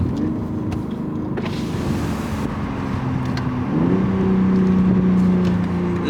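A tuned 460-horsepower BMW M240 engine idles and revs with a steady low drone that steps up in pitch partway through, with sharp exhaust crackles and pops scattered on top, loud and close.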